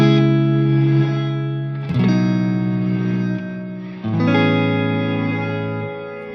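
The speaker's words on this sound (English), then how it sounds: "let's say that I chose a reverse reverb on the non-linear mode." Electric guitar chords through a Strymon BigSky MX pedal on a reverse reverb in non-linear mode, three sustained swelling chords with dense, distorted, shimmering wash, loud and alone.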